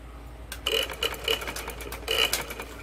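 A domestic sewing machine stitches the folded hem of a ladies' kurti, running in short mechanical bursts with brief pauses between, close and fairly quiet.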